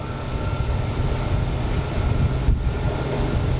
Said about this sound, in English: I can hear the difference in the motor too.